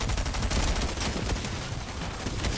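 Rapid, continuous SMG fire from a Fortnite match at Tilted Towers, loud and dense, with sustained automatic bursts filling the whole moment and no voice over it.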